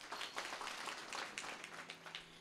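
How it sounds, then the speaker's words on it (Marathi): An audience applauds at a village Ganpati gathering, a steady wash of many hands clapping at moderate level for a couple of seconds. "तुम्ही तुमच्यासाठी एकदा टाळ्या वाजवा"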